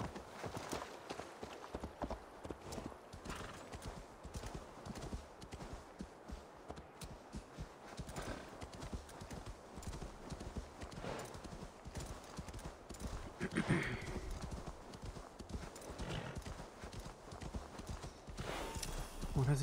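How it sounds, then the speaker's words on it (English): Horse hooves clip-clopping in the video game Assassin's Creed Valhalla, a steady trotting rhythm of hoofbeats that runs throughout, with faint game ambience and occasional speech in the background. "say that and the horse starts moving"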